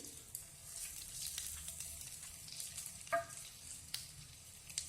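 Garlic paste, ginger paste and green chili sizzle steadily in a hot pan for a restaurant-style veg Kolhapuri, with a soft continuous crackle and a brief clink or stir near the middle, no talking.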